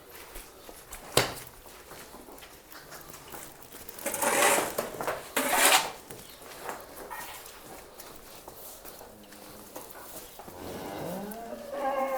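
Cattle moo a few times, including a higher call from a young female calf near the end, amid shuffling and knocking sounds from a farmyard in Gharyala village, Punjab.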